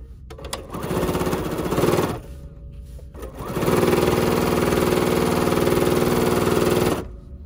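Sewing machine stitching tulle onto a crazy quilt on its free arm, running in a short burst and then a longer steady whir of rapid, even stitches, close and fairly loud.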